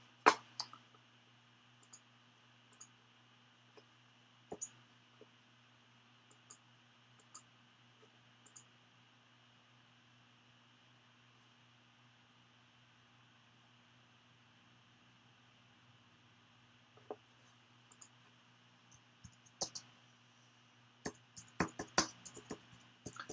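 Typing on a computer keyboard in a quiet room produces sparse, faint clicks that turn into a denser burst of keystrokes near the end, over a low steady fan hum.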